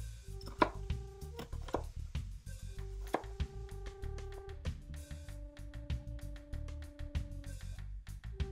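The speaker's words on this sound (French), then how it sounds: "Donc, je vais faire un oignon ciselé." A knife finely dices an onion on a board, producing a rapid, steady run of close, crisp taps that keeps going throughout over faint background tones, with no talking.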